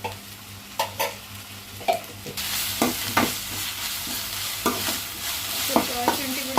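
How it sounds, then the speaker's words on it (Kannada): Onions and ginger garlic paste fry in a pan for mutton gravy, a steady close sizzle broken by repeated scraping stirs of a spoon against the metal. "ಸ್ವಲ್ಪ ಶುಂಠಿ ಬೆಳ್ಳುಳ್ಳಿ ಕೂಡ ಫ್ರೈ ಆಗಿದೆ"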